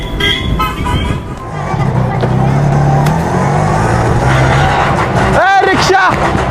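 An auto rickshaw's engine runs close by with a low, continuous rumble, while voices talk over it and a short squealing sweep cuts in near the end.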